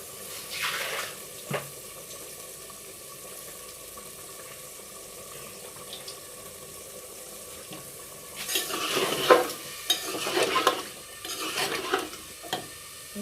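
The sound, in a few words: frying and stirring potatoes and cauliflower in a pan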